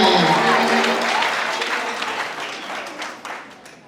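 A church congregation bursts into loud, dense applause that slowly thins and fades over a few seconds.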